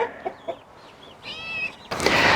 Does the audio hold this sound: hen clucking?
yes